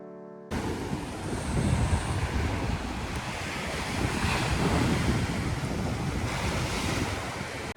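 Sea waves wash onto a hotel beach in Ho Tram, Vietnam, a steady close roar of surf mixed with gusty wind buffeting the microphone, no voices.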